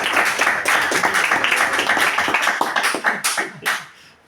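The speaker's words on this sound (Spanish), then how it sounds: "Y sí les pido un aplauso para él porque se lo merece" Sustained applause from an audience, dense clapping that holds steady before thinning into a few scattered claps and fading out.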